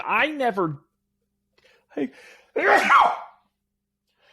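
A person speaks briefly, then a loud, sharp sneeze bursts out close by, followed by quiet.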